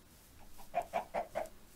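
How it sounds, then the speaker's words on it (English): Chicken in the Minecraft video game clucking four times in a quick, even run, clear and close with no talk. "Yes, out of the way, chicken."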